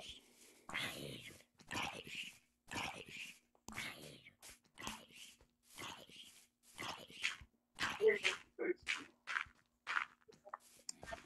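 Soft, close whimpering and whining from a dog in Minecraft, sounding in short repeated bursts with brief gaps between them and no talk over the cries.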